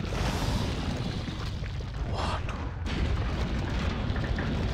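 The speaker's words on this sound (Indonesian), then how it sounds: "Bahkan sebuah bazooka perlu dua kali buat bunuh dia ya" A bazooka rocket launcher blast in Resident Evil 4, a heavy booming explosion with a broad rumbling wash that briefly drops out, then the roar continues.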